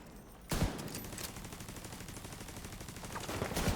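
Rapid gunfire in a video game sniper battle, a dense burst of shots starting sharply after a brief quiet moment and continuing steadily, with heavier cracks near the end.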